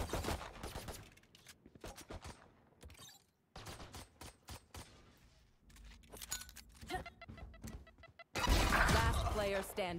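Gunfire from a Valorant esports match between 100 Thieves and LYC.EMP, with sharp bursts and rapid rattling volleys scattered through the round and a dense loud barrage at the end, heard alongside commentator speech.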